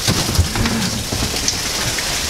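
Steady rain pours down outdoors in Pensacola during a thunderstorm with lightning nearby, a dense continuous hiss of drops on surfaces filling the whole moment at a loud, even level.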